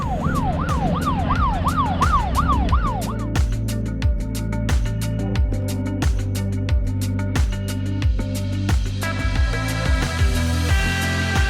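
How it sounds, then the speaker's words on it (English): A boat's electronic warbling anchor alarm cycles rapidly for a few seconds, then gives way to steady rhythmic engine thumping and mechanical clatter that continues to the end. "It means the anchor alarm's working."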